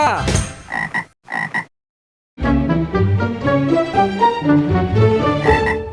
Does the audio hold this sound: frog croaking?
yes